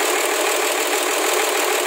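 An engine runs smoothly and loudly close by, a steady even drone throughout with no voices over it.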